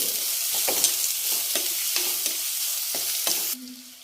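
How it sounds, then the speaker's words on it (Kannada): Sliced ivy gourd frying in oil in a pan until golden, a steady close sizzle with stirring scrapes throughout before it thins out near the end; no talking. "ಈಗೆಲ್ಲ ಸ್ವಲ್ಪ ಗೋಲ್ಡನ್ ಕಲರ್ ಬರೋವರೆಗೂ ಫ್ರೈ ಮಾಡ್ಕೊಳ್ಳಿ."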